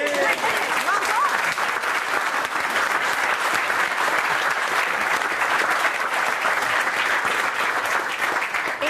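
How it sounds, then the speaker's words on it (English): Studio audience gives a round of applause for a guest on a wildlife show: continuous, full clapping from a sizable crowd, steady and loud throughout with faint voices mixed in. "Give him a round of applause."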